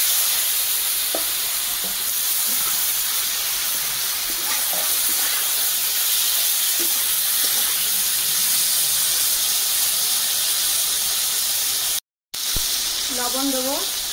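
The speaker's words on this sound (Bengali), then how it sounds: "মাছ ভাজা তেলে আলু ভেজে নেব।" Potato pieces fry in oil left over from frying fish, a loud, steady sizzle and hiss that carries on unbroken, with a brief voice near the end.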